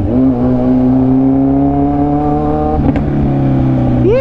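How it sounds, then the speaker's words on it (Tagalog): Heavy rush-hour traffic on Carino Highway heard from a Kawasaki Z1000R, a loud steady engine drone holding one pitch, with a brief rattle near the end and a rising rev as the bike pulls away. "Sobrang traffic na."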